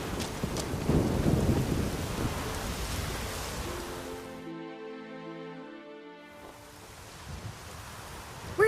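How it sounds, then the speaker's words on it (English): Rain and rolling thunder from a storm in The Witcher 3, a broad roar that briefly drops out while music plays, then returns, with a rumble rising at the end. "The storm, damn it."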